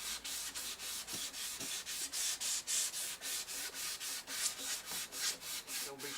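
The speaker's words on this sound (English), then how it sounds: "So I'm going to go over it now with the 1500 grit" 1500-grit sandpaper rubbing the glossy finish of a guitar neck in quick, even back-and-forth strokes, a close, rhythmic hissing scrape repeated about three times per second with no talk.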